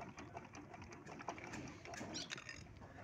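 A domestic sewing machine running fabric through after a tension repair, a continuous low mechanical whirr with rapid needle ticking, fairly quiet and steady throughout.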